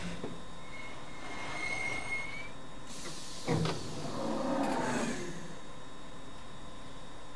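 A London Underground C69 stock train runs in Train Simulator 2020, with a steady rumbling hum, a high squeal of wheels or motor and a louder burst of clatter in the middle.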